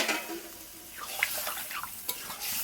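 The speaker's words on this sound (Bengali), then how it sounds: "দিয়ে দেবো জল, যেহেতু একটু ঝোলঝোল করবো সেজন্য জলের পরিমাণটা একটু বেশি দেবো।" Water goes into a pot of Bengali bata fish curry cooking with spices. Several soft, faint splashes and trickles play out irregularly over a quiet background.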